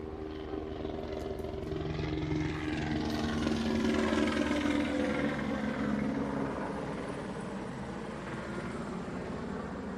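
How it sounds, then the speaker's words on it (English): A helicopter somewhere near a park, its steady rotor thrum and engine drone holding loud and constant throughout the whole stretch without fading. "There's a helicopter somewhere"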